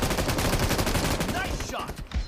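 Rapid bursts of automatic gunfire in the mobile battle-royale game PUBG played on a OnePlus Nord, dense crackling shots close up that thin out near the end.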